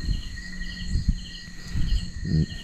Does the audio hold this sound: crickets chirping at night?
yes